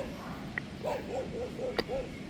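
A dog barks several times in a quick series of short, fairly distant yelps over steady outdoor background noise on an island seaside outing.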